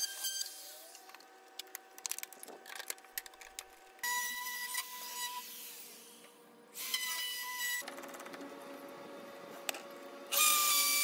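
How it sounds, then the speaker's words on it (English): A router trims laminate off an arcade cabinet panel in several bursts, high whining passes starting and stopping abruptly, alternating with quieter mechanical noise and rising to a louder run at the end. "I'd then get my router and trim the laminate off."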